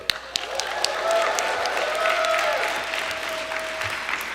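A startup event audience in Mississauga cheers and applauds loudly, with dense steady clapping, whoops and a few whistles running throughout.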